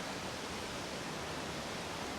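A waterfall roars as a steady, dense wash of falling water, loud and unbroken, with windy conditions throwing mist off the falls.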